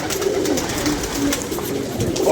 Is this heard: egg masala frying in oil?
no